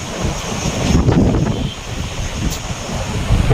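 Strong evening sea wind on the beach at Old Digha roars continuously across the microphone in broad, gusty rushes, loud and close, with no voices.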